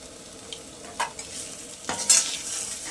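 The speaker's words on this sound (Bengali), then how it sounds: "এবারে এটা নাড়তে নাড়তে একেবারে শুকনো করে ফেলবো।" A spatula stirs long-bean (borboti) bharta in a pan while it cooks down dry, with a few scraping strokes over a low sizzle, close and moderately loud.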